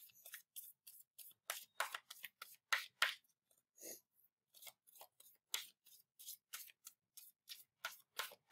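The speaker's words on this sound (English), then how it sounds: "So, I'm gonna shuffle it 5-6 times." Tarot cards being shuffled by hand, a close, quiet series of crisp papery riffles and swipes in a steady irregular rhythm, with no talking.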